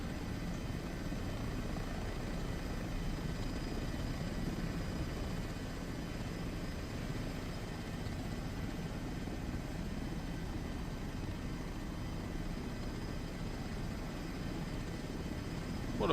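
Ground-idling engines of an H145 HEMS helicopter in Microsoft Flight Simulator at a Cairngorms search-and-rescue scene, a steady broadband turbine and rotor drone holding evenly, alone, without talk.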